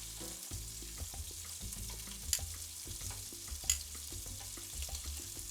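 Pancit canton noodles with shrimp and chicken fry in a pan, giving a steady low sizzle broken by two louder scraping clatters as the noodles are flipped.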